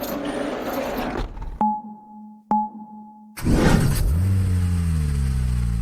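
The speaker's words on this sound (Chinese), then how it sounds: "我们开车绕了半小时" A Mitsubishi Delica camper van's engine runs and revs as the van drives off, with a loud broadband engine roar, a brief quieter stretch with a steady electronic whine, then rising engine tone as it accelerates.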